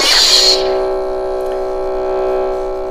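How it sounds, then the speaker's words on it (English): A Madcow Shoto soundfont lightsaber ignites with a brief bright burst, then settles into a steady, tonal, futuristic idle hum that sustains cleanly for several seconds, up close and alone. "then the idle hum takes over, and the idle hum is really nice actually."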